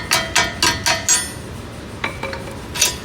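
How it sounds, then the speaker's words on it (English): Light hammer taps seating an ARP extended rear wheel stud into the hub of a Lexus IS300, a quick series of five sharp metallic knocks followed by two more spaced strikes, close and clear. "And with a little tap,"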